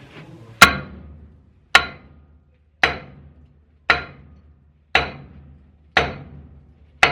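A metal steam boiler fitting being struck with a hammer to loosen it: seven sharp, ringing blows at a steady pace about a second apart, each one decaying quickly into quiet, loud and close.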